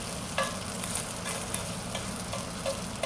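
Bacon fries in a cast iron skillet with a steady, dense sizzle and crackle, close and continuous. Light clicks from a utensil are heard and no one speaks.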